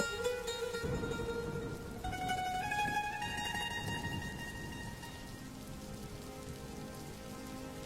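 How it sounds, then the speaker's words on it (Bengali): Cartoon rain falls steadily and drips into a rice pot, a soft continuous patter with faint tonal music underneath. "বৃষ্টির জল যে ভাতের হাঁড়ির মধ্যে পড়ছে"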